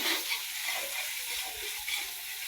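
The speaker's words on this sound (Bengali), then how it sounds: "এই মশলাগুলোকে কষিয়ে নিব" Spice masala frying in oil for a crab curry, a steady bright sizzle that fills the whole stretch with small crackles and occasional stirring, close and continuous with no voices.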